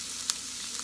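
Onions sautéing in a hot pan for turkey stuffing, a continuous close sizzle with a couple of brief light ticks.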